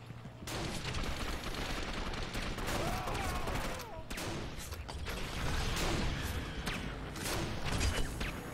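Continuous gunfire from the video game Gotham City Impostors, a dense, loud run of rapid shots and bursts filling the whole stretch, with brief dips between volleys and game effects layered in.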